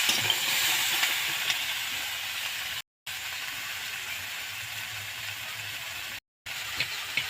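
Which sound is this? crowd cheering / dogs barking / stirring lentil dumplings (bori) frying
stirring lentil dumplings (bori) frying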